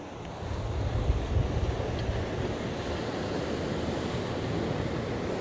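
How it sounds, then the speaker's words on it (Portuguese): Ocean surf breaks along a shore where people are fishing, a continuous rushing wash of waves mixed with wind buffeting the microphone, steady and fairly close. "Olha a arrebentação."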